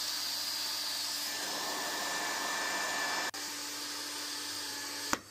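A hot-air plastic welding gun fitted with a triangle nozzle blows with a steady, close hiss and fan whine while welding triangular filler rod on a custom plastic tank for a Transit van, briefly dipping and ending in a click.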